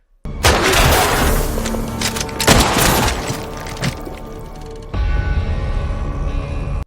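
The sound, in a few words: gunshots fired at a vehicle's tire in a film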